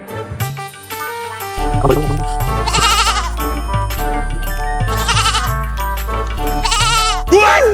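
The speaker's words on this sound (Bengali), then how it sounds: "ছাগলটা আন দিন।" A goat bleats in a comedic village sketch, several wavering cries rising over loud, steady background music with a deep bass beat, the sharpest bleats coming in short bursts near the end.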